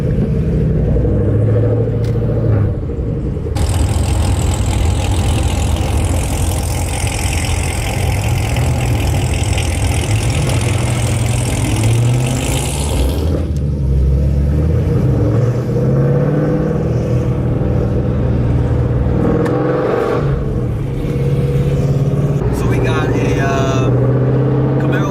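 A turbocharged Chevrolet Camaro SS rumbles at a loud, close idle with a heavy low drone, rising and falling through a few revs while people talk over it.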